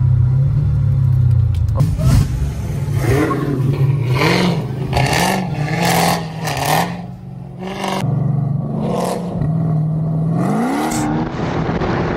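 A Jeep Trackhawk engine with its exhaust valves closed gives a steady mechanical whine over a loud, continuous rumble, rising and falling in pitch as it revs, close and constant for the whole stretch.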